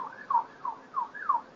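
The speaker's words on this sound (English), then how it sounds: "you can hear that siren going on in the background now" A police car siren wails faintly in the background, a short series of rising and falling electronic tones repeating about every third of a second, thin and distant.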